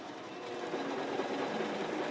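An Intelliquilter computerized quilting machine stitches a quilt with a steady, fast mechanical whir and rapid rhythmic needle ticking, close and continuous throughout, with no talk.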